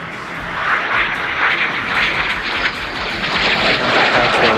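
An airshow display aircraft performing a Cuban maneuver and roll at Farnborough, a loud continuous engine roar that swells and holds steady overhead with no pauses.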